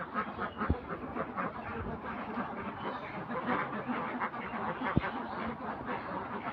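Ducks quack near a duck house beside a pond, a busy overlapping chorus of steady calls at moderate distance, with a couple of sharp knocks.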